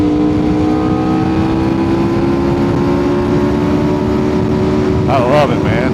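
Aprilia RSV4 Italian superbike engine droning loud and steady with strong harmonic tones throughout, a brief rising rev swell near the end, with a voice talking over it.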